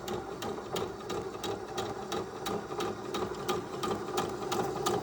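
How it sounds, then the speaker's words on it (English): A Singer Heavy Duty 6800C sewing machine stitches a buttonhole, its needle hammering in a steady, fast rhythmic clatter over a constant motor whir, close and even throughout with no talking. "So I should just be able to sew."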